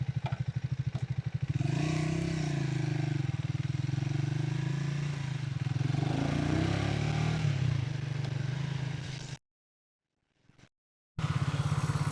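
A Triumph Speed 350 motorcycle rides with a steady engine hum and rising, shifting tones as it accelerates, plus some rattling, before a brief silent gap and a return of the engine.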